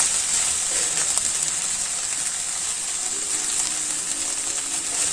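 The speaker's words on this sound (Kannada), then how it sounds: "ಮೀಡಿಯಮ್ ಫ್ಲೇಮ್ ಇಟ್ಕೊಂಡು ಚೆನ್ನಾಗಿ ಈ ರೀತಿ ಫ್ರೈ ಮಾಡ್ಕೊತಾ ಇರಬೇಕು" Ivy gourd pieces fry in a pan over a medium flame, a dense, even crackling sizzle heard close up and unbroken, with no talk.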